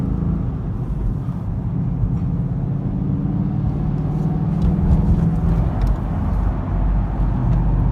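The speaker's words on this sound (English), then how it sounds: "I'm not stepping on the gas there, and it's accelerating between shifts." Ford Mustang engine droning steadily from inside the car as it accelerates between gear shifts on its own, with a possible tune fault linked to a failed speed sensor; a continuous low rumble with no talk.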